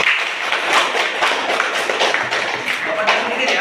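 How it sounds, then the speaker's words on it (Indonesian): Audience in a classroom-style gathering clapping together, a dense, near, continuous patter of hand claps at even strength that lasts the whole stretch. "Silakan dulu kita kasih tepuk tangan bagus ini."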